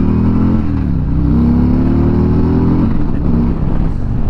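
A 2020 Harley-Davidson Street Glide Special cruiser motorcycle engine, loud and close, with a deep rumble and rising and falling revs that hold steady throughout.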